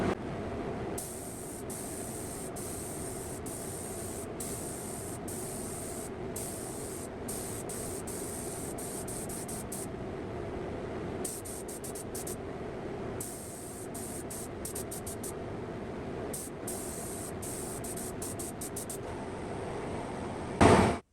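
A spray gun mists lacquer onto a guitar body in a finishing booth, a steady hissing spray broken by short on-off pauses and running alone throughout.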